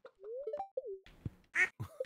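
Ducks quack in the video game Stardew Valley, giving a few short, faint, scattered calls mixed with other brief game sounds, close and quiet.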